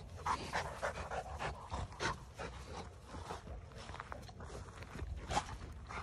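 A Rottweiler pants rapidly up close, with light shuffling steps and rustling; quiet overall with brief louder bursts.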